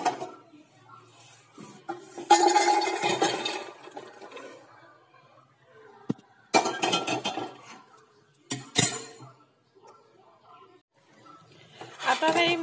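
Fried makhana (fox nuts) poured from a vessel into a pan, heard as a few distinct bursts of clattering, rattling pieces separated by quieter pauses, close and fairly loud.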